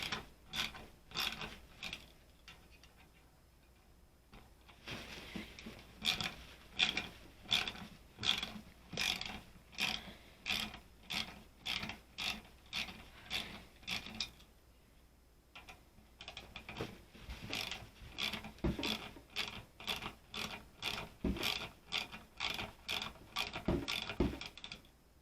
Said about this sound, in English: All you need is a socket wrench.